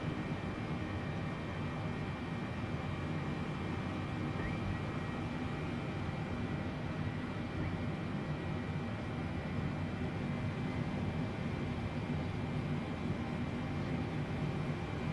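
Steady, unbroken roar of a UPS Boeing 787 heavy airliner on its takeoff run from runway 17 right in a flight simulator game, loud and constant from start to finish with no talk over it.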